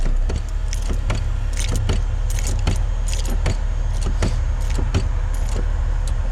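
Honda S2000 idling with its engine running while the brake pedal is pumped repeatedly, giving a constant low engine drone with sharp clicking and jangling hits at an irregular rhythm over it.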